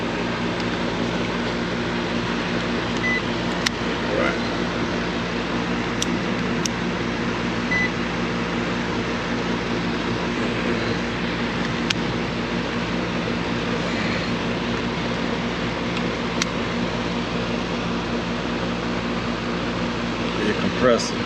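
An air conditioning unit's compressor and fan hum steadily at close range, a constant loud drone with faint intermittent clicks throughout.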